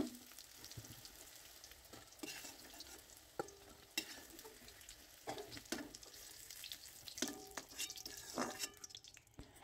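Soybean chunks fry in hot oil in a wok, giving a quiet, continuous sizzle broken by scattered clicks and scraping stirs.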